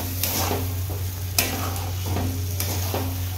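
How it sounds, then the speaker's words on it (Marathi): Masala with peanuts, lentils and chopped spring onions is stir-fried in a pan, with a constant hiss of frying under a steady hum and rhythmic scraping strokes of a spoon every second or so. "तर आपला इकडे मसाला परततोय मित्रांनो"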